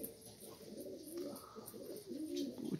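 Pigeons kept as pet birds coo steadily in a loft, a continuous layered murmur of soft throaty calls close by with no talking.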